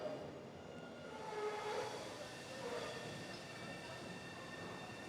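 A Boston Red Line subway train rumbles nearby with a steady mechanical drone and faint high-pitched squeals, fairly quiet overall.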